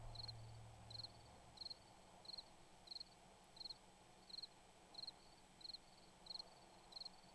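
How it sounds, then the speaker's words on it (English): Ambient crickets in the video game 7 Days to Die (Alpha 17), a steady high chirping repeating in short evenly spaced bursts, moderately distant, over a low background hum with no voices. "I can hear the crickets just fine down here"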